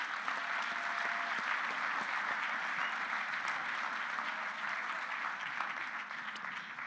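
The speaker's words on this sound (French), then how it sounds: "Vous pouvez l'applaudir." Steady audience applause at a French sports talk event, continuous dense clapping from a crowd lasting several seconds, moderately loud and fading slightly toward the end.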